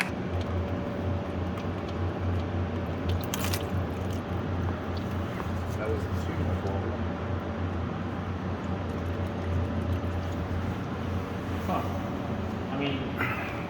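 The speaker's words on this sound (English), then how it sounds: "No, that's water. You still want to drain it?" Water drains from a flooded Suzuki Cappuccino as a steady, unbroken rushing hiss over a low hum, with voices talking faintly underneath.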